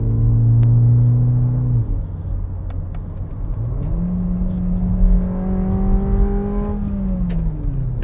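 A VW Virtus GTS drives along a road with its engine revving up and down through paddle-shift gear changes, the pitch climbing then dropping at each shift over a steady rumble.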